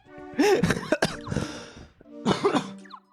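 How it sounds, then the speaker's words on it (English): A cartoonish cough sound effect from the Paper Mario video game, several short hacking bursts with a throaty, voiced quality, clear and close in a brief clip. "Nice cough."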